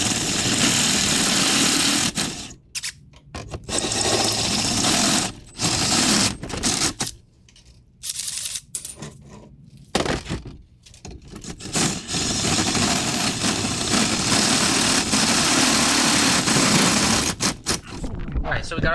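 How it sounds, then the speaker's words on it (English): A power drill boring holes in a metal fuel hanger for weld-on bungs, in loud whirring bursts broken by short pauses, close up in a workshop. "Alright, so we got our holes drilled"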